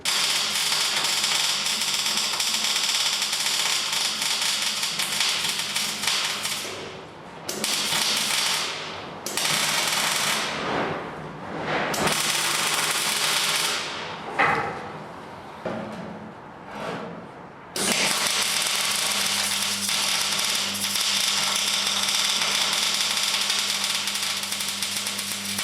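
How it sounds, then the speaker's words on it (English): Welding rudder stops onto a boat under construction gives a steady crackling, buzzing hiss, loud and close, broken by several short pauses before running on continuously. "So I'll just put the camera back up and we'll weld these in."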